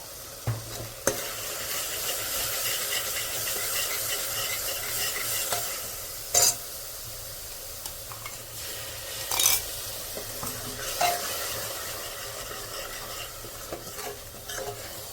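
Masala roasting in a pan for a chickpea curry, with continuous sizzling under repeated scraping and stirring strokes and a few sharp clinks of a spoon against the pan.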